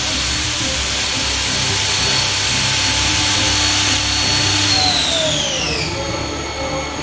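A Haas ST-10T CNC lathe spindle spins at 6,000 RPM, a loud, steady, high-pitched machine whine over a mechanical hum; near the end the tone glides downward as the spindle slows, with no speech.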